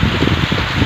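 Steady, dense rain pours down close by, a loud continuous hiss with patter of drops on surfaces, and no voices.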